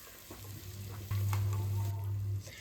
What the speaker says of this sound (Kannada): ಅದನ್ನು ಹಾಕಿ ನಾನಿಲ್ಲಿ ಚೆನ್ನಾಗಿ ಫ್ರೈ ಮಾಡ್ಕೋತಾ ಇದ್ದೀನಿ.